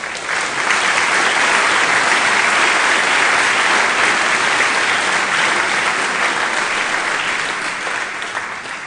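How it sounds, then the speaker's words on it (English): Loud sustained applause from a large audience at a university graduation ceremony in London, a dense even roar of clapping that holds for nearly nine seconds before tapering slightly. "So another round of applause, please, for what you said."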